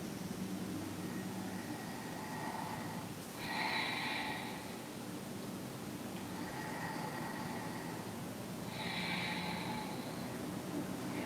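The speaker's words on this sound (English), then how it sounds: "Listen to the breath." Slow, audible breathing during a seated yoga forward bend, two full cycles of soft airy inhales and exhales spaced several seconds apart, close over a steady background hiss.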